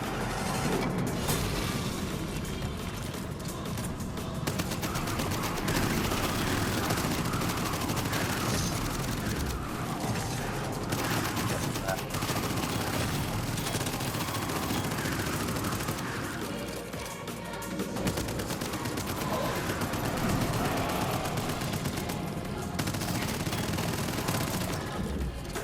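Relentless gunfire and explosions from the roguelite first-person shooter Abyssus, a dense, loud, continuous barrage with no real pause across the whole stretch.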